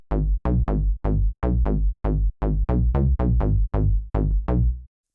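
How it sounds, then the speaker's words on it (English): A square-wave synth bass preset called Bass Fade plays a bouncy run of about fourteen short, plucky notes, each decaying quickly, close and clean with no other sounds, in a tech house style. "Bass Fade is a square bass"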